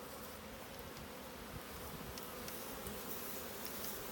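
Honey bees buzz steadily around an open hive while the royal jelly rearing section is being worked, a dense, continuous hum heard close up and alone without any talking.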